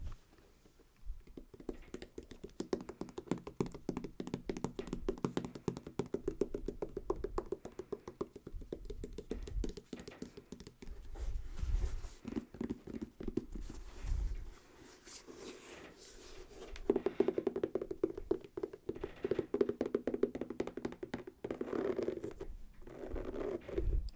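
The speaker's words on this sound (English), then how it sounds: "let's get into some tapping and some sounds with the shoe" Handling of a sneaker: taps, scratchy rubbing and fabric rustles come in uneven bursts close by, with no voice.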